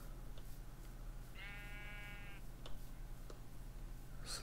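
A single Minecraft sheep gives one clear, wavering bleat lasting about a second, rising out of a quiet, faintly humming game background with a few soft clicks.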